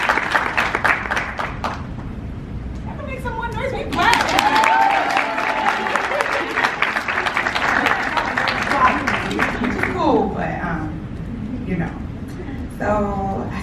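Audience applause and cheering at a women's empowerment event fill the space continuously, with dense clapping throughout and voices calling out over it.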